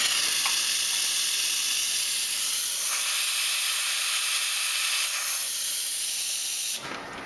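Steam wand on a super automatic espresso machine with built-in grinder and top hoppers hisses loudly and steadily for about seven seconds, a continuous broadband rush with slight surges, then cuts off abruptly at the end.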